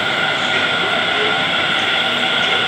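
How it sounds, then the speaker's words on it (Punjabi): A metro train in Delhi rumbles loudly and steadily nearby, a continuous roar of rail noise with no pauses. "ਉਹ ਪਿੱਛੇ ਇੱਕ ਟ੍ਰੇਨ ਆ ਗਈ ਹੈ ਮੈਟਰੋ"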